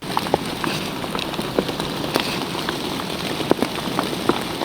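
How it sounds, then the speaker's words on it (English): Heavy rain mixed with hail pelts down on a mountain trail in the Goat Rocks area, a steady dense hiss broken by frequent sharp ticks and pops of hailstones striking nearby surfaces. "So the hail is getting worse and bigger, and the rain is getting terrible."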